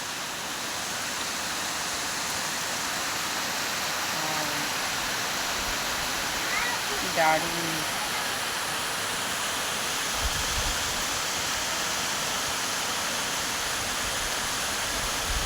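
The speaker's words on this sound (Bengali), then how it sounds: "আজকে দারুণ বৃষ্টি হচ্ছে" Heavy rain falls in a steady, broad wash of noise that lasts throughout, with a brief spoken word partway through.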